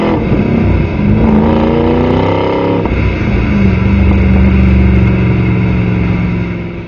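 A 2013 Ford Mustang Shelby GT500 with a supercharged V8 accelerates hard, a loud, close engine roar rising in pitch through one gear, a brief shift, then pulling strongly again before easing off.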